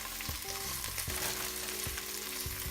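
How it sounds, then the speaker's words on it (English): Spinach sizzles and fries in a pan while cooking for a chicken Alfredo, a dense, even crackle up close with faint stirring and a low hum of clanks underneath. "Just gonna let the spinach cook for a little bit."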